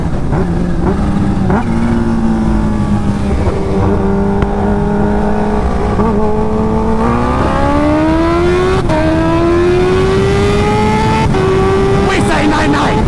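A Kawasaki Ninja H2 motorcycle engine revs loud and close, its pitch climbing in steps through the gears with a continuous rough roar and wind noise.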